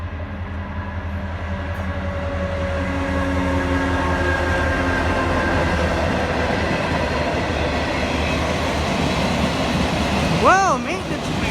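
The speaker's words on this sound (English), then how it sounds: "a Norfolk Southern southbound maintenance away train" Norfolk Southern southbound maintenance-of-way train passing in Marion, Ohio, a steady loud rumble with droning engine tones throughout, close by, with a brief voice near the end.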